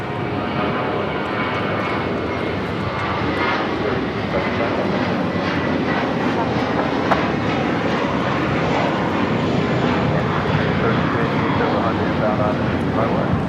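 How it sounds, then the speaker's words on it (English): Spirit Airlines Airbus A321 taking off from runway 25 right at Los Angeles International Airport, a loud, steady roar of jet engines sustained throughout with broadband rumble, heard close and alone without talk. "That was Spirit Airlines 375 taking off to Houston Intercontinental on the A321"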